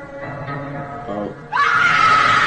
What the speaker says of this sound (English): Kids scream from Slendy Tubbies.